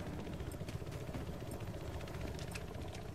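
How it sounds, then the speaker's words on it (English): A transport helicopter in a video game drones steadily with a continuous rotor and engine hum that stays at an even level throughout, with no voices present. "Transport chopper coming at you."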